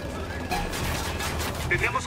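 A burst of rapid gunfire crackles through a dense, noisy mix, steady bangs over about two seconds with no clear pauses, from the video game Ghost Recon: Wildlands.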